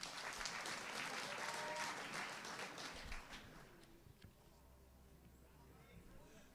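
Audience applause at a provincial awards ceremony, a crowd clapping steadily for about three seconds before thinning out and fading to a quiet, murmuring room.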